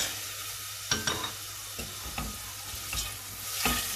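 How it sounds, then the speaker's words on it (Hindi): Dry fruits frying in melted butter in a pan, a soft continuous sizzle broken by several sharp stirring clicks and scrapes, close and fairly quiet with no talk. "इनको हम 1 से 2 मिनट में हल्का सा फ्राई कर लेंगे।"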